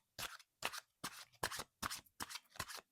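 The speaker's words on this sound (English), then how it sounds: "I'll start shuffling um, the Golden Tarot." Tarot cards from a Golden Tarot deck being shuffled on a table, seven quick riffling bursts in a steady rhythm, close and fairly quiet, with no talking.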